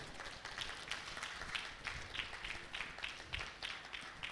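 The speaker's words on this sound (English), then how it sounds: "So please, let us clap for all those who contributed." Applause from an audience at a West African small-business exhibition, faint and distant, with steady scattered clapping that rises in small rhythmic pulses throughout.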